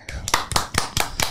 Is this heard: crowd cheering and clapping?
yes